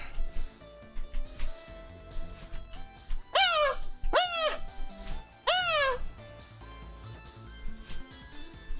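A person imitates a cat with three drawn-out, rising-and-falling meows, close and clear over soft background music.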